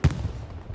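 A single gunshot in a video game, a sharp loud burst at the very start that trails into a rumbling low tail, with a second thump at the close.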